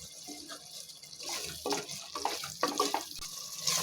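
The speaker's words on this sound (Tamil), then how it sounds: "மட்டன் வேகிறதுக்கு மட்டும் தண்ணி விட்டுக்கிறேன்." Water runs into a pot of mutton being cooked for biryani, a splashing, gurgling pour that swells and breaks into uneven bursts over a few seconds, fairly close, with no talking.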